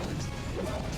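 A forward smash attack lands in Project M, a Super Smash Bros. mod, during a competitive tournament set, giving a single sharp crash over constant busy game and crowd noise.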